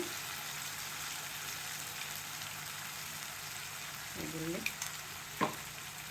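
Tomato puree and ginger garlic paste fry quietly in oil in a pan for a lady finger masala curry, a soft steady sizzle with a few stirring scrapes near the end.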